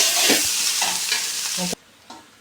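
Egg rice being stirred and tossed in a hot pan, a loud continuous sizzle with scraping strokes of the spatula, cutting off abruptly near the end, leaving a faint tap.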